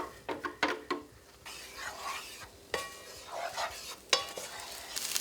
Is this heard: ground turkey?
yes